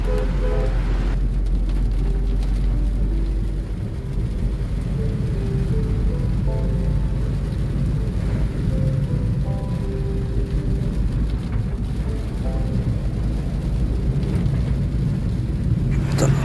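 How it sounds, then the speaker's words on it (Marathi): A constant heavy roar of rain with a deep, rumbling low end runs without a break, a downpour heard close by in the forest of Amboli Ghat. "पाऊस जोरदार चालू झालेला आहे"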